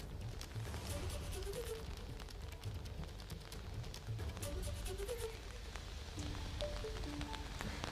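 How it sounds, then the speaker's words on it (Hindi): Heavy pre-monsoon rain pours down in Delhi, a faint but continuous wash of falling water with scattered drop impacts and soft low rumbles throughout, no voices. "दिल्ली और एनसीआर में झमाझम बारिश हो रही है"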